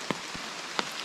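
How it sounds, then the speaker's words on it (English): Rain falls steadily in the woods along the Appalachian Trail near Cable Gap Shelter, a soft, even hiss with a few sharper drops tapping close by, quiet and with no voices. "Been raining the whole time."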